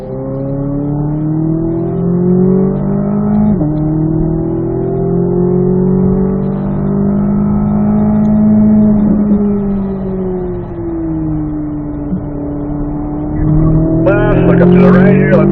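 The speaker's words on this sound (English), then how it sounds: "Alright, we'll get some laps with Chris behind me here." Cars lap a race track, heard from inside as a steady, loud engine drone with slowly shifting pitch that dips and rises through shifts, then revs harder near the end.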